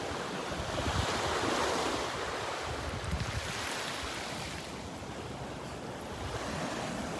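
Ocean waves roll in on a beach at Delnor-Wiggins with the tide coming in, a steady broadband wash of surf with wind buffeting the microphone, continuous and fairly loud with no voices.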